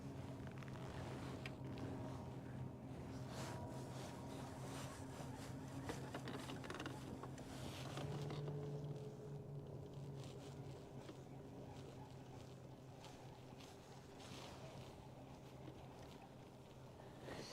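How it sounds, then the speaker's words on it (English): Boat motors hum at a distance across Lake Guntersville, a steady low drone with a brief louder passing swell midway, faint and continuous under the open-air quiet. "There's a lot of boat movement starting to happen."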